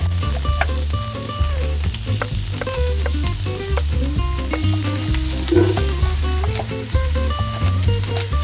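Chopped onions and carrot sizzle and fry in a pan at a campsite, a loud, continuous crackling hiss with occasional stirring, over steady background music.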